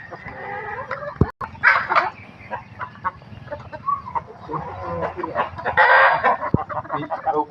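Several backyard chickens cluck and squawk close by, with bursts of louder calls and a sharp knock partway through; no one speaks.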